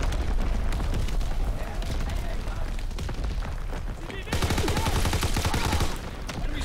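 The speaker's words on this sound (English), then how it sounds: "Incoming enemy artillery." Artillery blasts and gunfire from Call of Duty WW2 sound as a dense, continuous barrage of booms and crackling shots, loud and close, with a heavier volley surging partway through.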